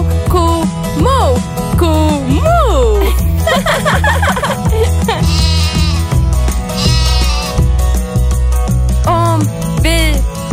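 Bleating sheep sound over a bouncy children's farm-animal song, with repeated ba-ba calls riding on steady music, and a voice also imitates the sheep's bleat.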